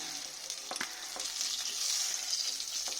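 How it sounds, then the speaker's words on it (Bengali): Small fried koi fish are lifted from hot oil in a home kitchen, giving a soft, steady sizzle with a few light scraping clicks, fairly quiet and without speech. "আমার মাছগুলো সব ভাজা হয়ে গেছে। এবার আমি তুলে নিচ্ছি।"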